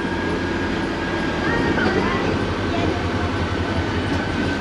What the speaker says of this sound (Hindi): चलें अभी ट्रेन रुकती है